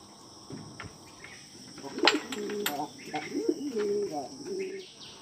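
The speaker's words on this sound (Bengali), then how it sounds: "কবুতরের দানাগুলা খেতে থাক" Domestic pigeons feeding on scattered grain at a rural home loft in Bangladesh, with soft cooing and birdsong over faint insect chirping and light pecking, at moderate distance.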